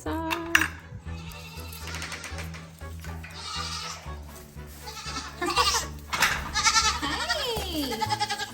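Goats bleat repeatedly on a farm, close and loud, several overlapping calls rising over clattering pots and dishes, with someone speaking now and then.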